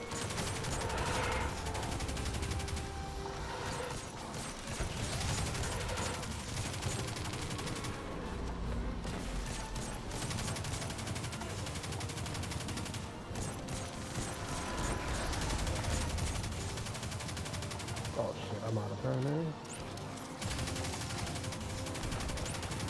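Gunfire in Destiny 2 during a Grandmaster Fallen Saber strike, dense rapid shots and mechanical clatter layered over continuous game noise for over twenty seconds, with a few sharper bursts near the end.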